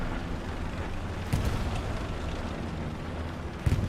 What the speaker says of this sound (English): Or at least part of their squad against artillery strike.